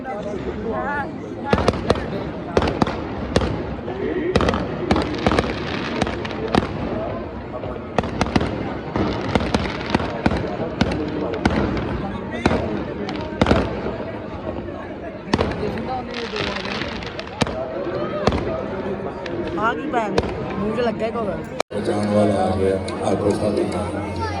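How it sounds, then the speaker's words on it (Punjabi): Firecrackers crackle and pop in dense, irregular bursts for over twenty seconds at a Gurpurab celebration in Tarn Taran Sahib, loud and fairly close, with crowd chatter and talking throughout. "ਚੱਲ ਗਏ ਨੇ ਪਟਾਕੇ"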